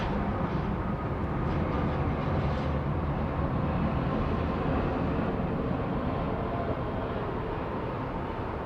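Qantas A380 airliners departing Sydney Airport side by side, a continuous loud broadband jet roar that holds steady throughout with no talk.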